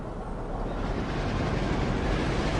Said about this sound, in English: Watch the train depart, shall we?